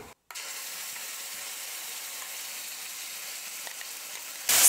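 Ground chutney sautéing over a low flame in a pan with golden-fried urad dal tempering gives a steady, even sizzle and fry hiss throughout, with no one speaking.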